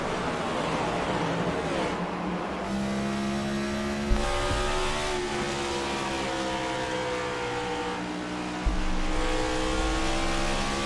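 Race cars circle the Bristol oval in the iRacing sim during a night race, engines droning and rising in pitch as several cars pass close together, with a steady loud roar throughout.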